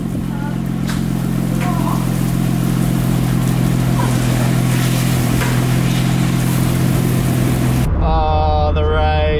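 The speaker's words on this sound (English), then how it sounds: "Wow, that is proper rain." Steady, loud hiss of a heavy rain downpour drumming on a car, dense and continuous for several seconds before cutting off abruptly near the end.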